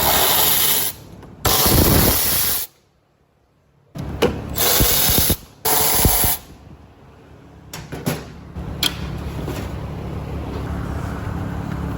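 Work on a Honda TRX90 ATV as its front fender and fuel tank come off, with bursts of loud tool whirring, clattering parts and scraping in separate spells, then steadier rattling and handling noise toward the end.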